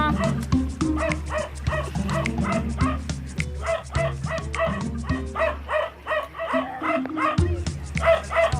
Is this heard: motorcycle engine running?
no